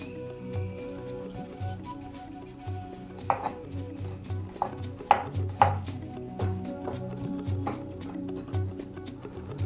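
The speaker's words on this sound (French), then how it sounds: "maintenant, il faut le découper en tout petits morceaux également" Knife chopping vegetables into very small pieces for a Cameroonian stew, heard as a handful of sharp, close board taps over a steady background hum with some clatter.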